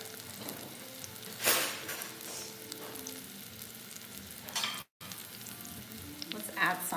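A tablespoon of butter sizzling in a frying pan, a quiet steady crackle with a few louder bursts of hiss, one brief cut to silence partway through.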